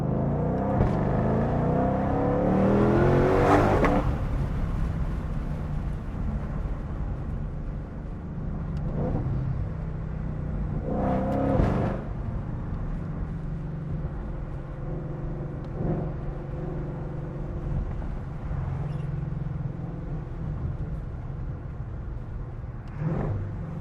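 Loud 2022 Shelby GT500 engine in a tunnel, revving hard through several pulls with sharp cracks on the upshifts, a deep booming rumble reverberating off the walls throughout.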